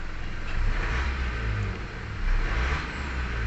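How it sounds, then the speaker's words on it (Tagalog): A 2017 Mitsubishi Montero with a low-power fault revs its engine, a close, steady mid-range roar that swells and eases in two pushes. "So ngayon naka-under na ang makina, i-rev muna natin."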